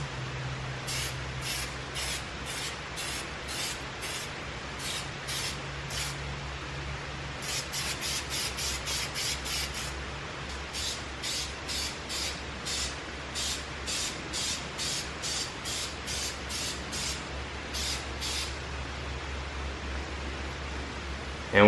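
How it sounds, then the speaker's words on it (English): Clear coat hisses out of a spray can onto brake calipers in a long series of short, even bursts. The spray is close and steady, with a faint low hum behind it and no talking. "You don't really have to use much of the clear coat because you don't want that to run."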